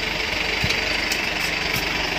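Tractor engine running on a farm with trolleys in tow at soybean harvest, a steady close diesel drone with a low rhythmic thump throughout, loud and continuous with no talk.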